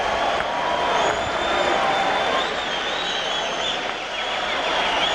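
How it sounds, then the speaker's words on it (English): Crowd at a women's professional boxing match featuring Laila Ali, a steady wash of cheering and applause filling the arena throughout, fairly loud and continuous without a clear break. "And a faint cheer of Ali, reminiscent of the old days."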